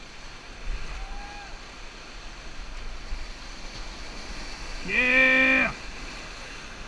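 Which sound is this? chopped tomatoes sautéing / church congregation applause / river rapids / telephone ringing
river rapids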